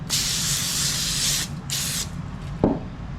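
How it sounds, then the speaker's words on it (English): Two hissing bursts of cooking oil spray onto a pan, a long one then a shorter one, followed by a light clunk. "we're going to spray this down with a little cooking oil again"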